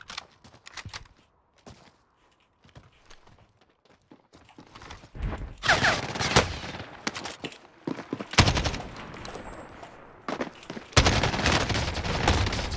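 Gunfire in the game Call of Duty Warzone arrives as scattered sharp shots and then dense, loud automatic bursts that build up and repeat across the stretch, with quieter gaps between volleys.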